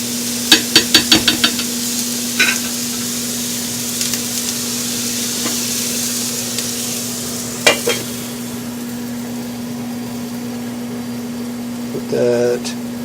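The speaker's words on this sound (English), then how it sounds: "Smell the onions frying." Onions fry on a home stove with a faint, continuous sizzle beneath a steady hum, broken by a quick run of utensil clicks at the start and a few scattered taps and scrapes later.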